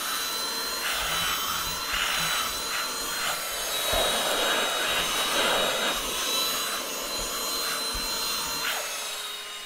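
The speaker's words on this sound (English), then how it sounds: "My wife had gotten me a little vacuum to vacuum out my car." A small handheld car vacuum running steadily with a high whine and airy rush, its pitch wavering slightly as it works, close and loud throughout.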